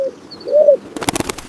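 A cartoon pigeon coos in a soft rising and falling tone in a village farmer story, followed by a quick burst of fluttery rustling. No one speaks.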